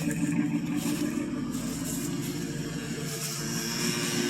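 A 1963 Ford Thunderbird with a 390 V8, a T-type muffler and single exhaust, runs steadily after a cold start, a low, even, moderately quiet rumble with no revving.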